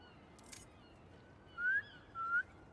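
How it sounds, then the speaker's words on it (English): Two short rising whistles in Marvel's Spider-Man 2, called out to a flock of pigeons, each lasting about a quarter second with a brief pause between, set against a faint background hush. "Try a whistle."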